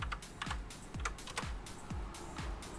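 Keys clatter on a computer keyboard in quick, steady bursts of close, light clicks, with a low rhythmic thump beneath.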